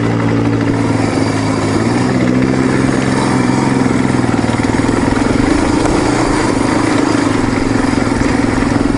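A dual-sport motorcycle lighter than a Honda CRF 250L runs steadily on a desert trail ride near Quartzsite, Arizona, its engine a continuous loud drone with a low rumble and wind noise throughout.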